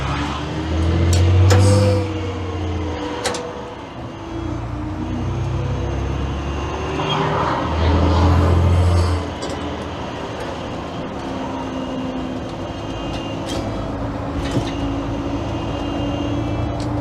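A Leyland Super National diesel bus engine revs up and pulls away, a steady low rumble with rising and falling pulses as it accelerates, no talking.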